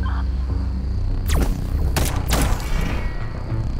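Gunfire aimed at a drone in the video game Liberated: a few loud sharp shots in quick succession over a low, droning game soundtrack.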